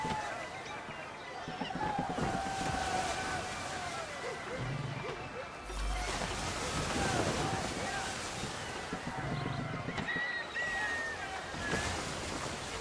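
A sailing ship under full sail at sea in Assassin's Creed 3, with a steady wash of waves and rushing wind filling the whole stretch at an even, fairly loud level.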